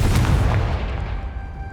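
Confringo fire spell exploding in Hogwarts Legacy, a loud deep boom with rumbling debris that trails off over under two seconds.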